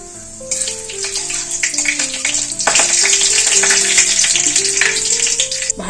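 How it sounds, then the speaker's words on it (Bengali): Fenugreek seeds, half a dry red chilli and a bay leaf hit hot oil in a pan, setting off a loud, steady, close sizzle that holds throughout, with a melody playing in the background. "তেল গরম হয়ে গেছে আধখানা শুকনো লঙ্কা একটা তেজপাতা আর মেথি এই মেথিটা কম আঁচে ভেজে নেব"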